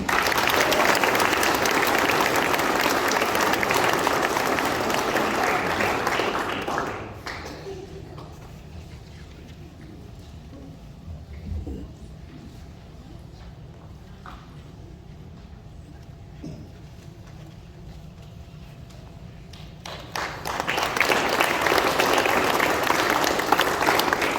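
An audience at a high school scholarship award ceremony applauding a recipient, steady loud clapping that fades to near quiet for about thirteen seconds, then swells again.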